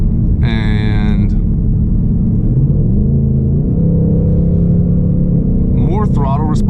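Ford Mustang with a 10-speed automatic driving in Sport Plus, a steady engine rumble with audible pitch steps as it shifts gears, while someone talks over it.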